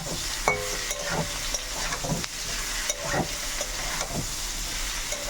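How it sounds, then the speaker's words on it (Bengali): Vegetables for shukto are stirred in a sizzling pan, rhythmic spoon scrapes and clinks repeating about every second over a continuous close frying hiss. "এবার নাড়াচাড়া করে"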